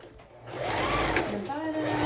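A sewing machine runs steadily, stitching a dart along a fabric face mask with a filter pocket, its motor hum fairly close and continuous, with a voice talking over it.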